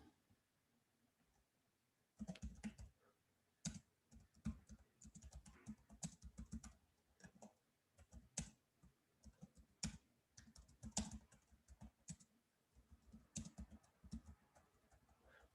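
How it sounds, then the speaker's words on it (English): Quiet bursts of typing on a computer keyboard, with quick irregular clicks that start after a short silence and continue in uneven clusters, soft and close with no voices. "Wait, I'm typing out."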